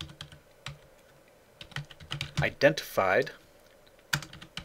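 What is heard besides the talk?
typing a password on a computer keyboard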